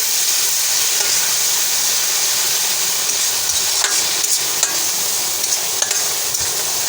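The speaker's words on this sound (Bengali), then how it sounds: "ভালোভাবে মশলাটা আমি কষিয়ে নেব" Spices with turmeric fry in a pan for fish balls, a steady close sizzle and hiss with faint stirring scrapes throughout, no voices.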